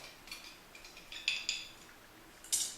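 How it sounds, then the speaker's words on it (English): A swizzle stick stirring rum in a cocktail glass, giving a handful of bright, light clinks against the glass, spaced irregularly and fairly close, with no voices. "stir that up with my magic swizzle stick that adds a little bit of magic to every cocktail"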